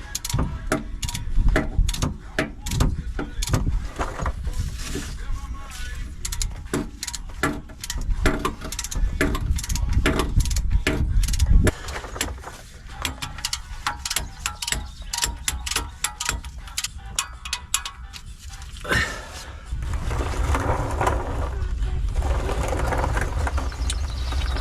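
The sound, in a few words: torque wrench tightening 10mm bolt on oil pickup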